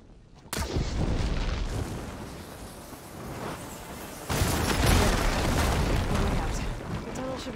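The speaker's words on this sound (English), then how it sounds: "Hitting those blaze barrels with fire ammo should do the trick." Blaze barrels set off by fire ammo in Horizon Forbidden West burst in heavy, rumbling booms, one striking near 0.5 s and a louder blast near 4.3 s, with dense crackling debris and roaring fire rolling on between them.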